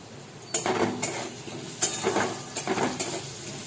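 Potatoes frying in a pan with beans and tomato, soft sizzling broken by several sharp stirring scrapes and utensil knocks against the pan, close and fairly quiet.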